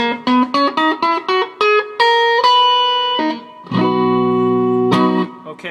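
Electric guitar playing a C natural (Ionian) scale with slight distortion, single notes picked one after another in steady rhythm, then longer ringing tones and a held chord, clear and close with no talking.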